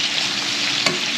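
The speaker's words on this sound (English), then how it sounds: "And just stir it up. Stir it up. Let it cook." Meat being stirred in a hot pan as it fries, a steady broadband sizzle with one brief scrape of the utensil, close and continuous, no talking.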